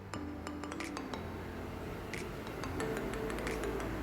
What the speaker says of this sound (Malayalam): ഇതിൻ്റെ അരപ്പൊക്കെ നമുക്കൊന്ന് ഇതിലേക്ക് ഒന്ന് ഇളക്കിയെടുക്കാം.